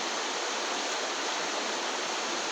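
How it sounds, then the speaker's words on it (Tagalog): Cold, very clear stream water flows steadily over rocks, a loud continuous rushing wash with no voices. "Agos ng tubig lang po naririnig"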